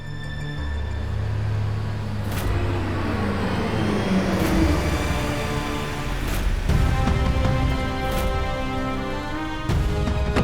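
A car rolls in with a steady engine rumble and road noise, growing slightly louder, with a few sharp knocks along the way.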